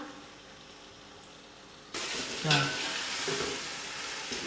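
Potatoes frying in a pan for a dhaba-style potato spinach dish: quiet at first, then a loud, close sizzle bursts in midway with scraping stirs, crackling steadily to the end.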